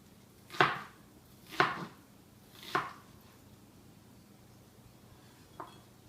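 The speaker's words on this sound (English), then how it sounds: "The best way I always feel like cutting an onion is doing the same method that I do with the other vegetables" A knife chops through an onion on a cutting board: three sharp, evenly spaced cuts, then a softer fourth after a pause, close and clear in a quiet kitchen.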